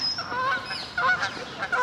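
Several birds honk and call in overlapping bursts, loud and fairly close, forming a steady noisy chorus with no talking.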